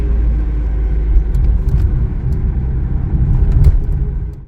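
Taxi car driving on a road in Poland, a steady loud engine and tyre rumble held throughout with slight swells, no talking.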